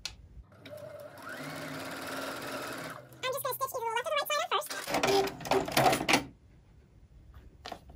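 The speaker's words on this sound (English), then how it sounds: "So I'm going to go ahead and stitch either the left or the right side on first." A sewing machine stitches a fabric quilt block in two runs, first a steady whirring hum, then a faster, busier clattering burst, close and fairly quiet, with a few small handling clicks after it stops.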